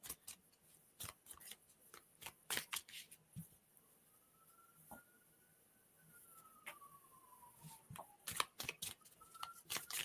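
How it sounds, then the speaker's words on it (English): Playing cards being shuffled nearby, a series of irregular crisp riffling and snapping bursts with quiet gaps between them and a faint tone in the background, with no talk. "I'm still shuffling."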